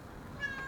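A cat meows once, briefly and faintly, from up on a roof, rising out of steady outdoor background noise.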